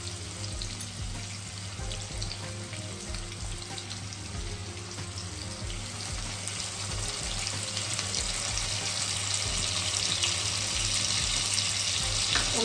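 Chopped tomatoes go into onions frying in a pan for a Bengali crab curry, giving a steady loud sizzle and crackle that grows slightly stronger over the clip, with no talking.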